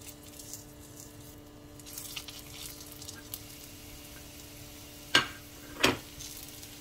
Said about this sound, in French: Je mets un peu l'huile d'olive. Alors maintenant, je vais faire cuire.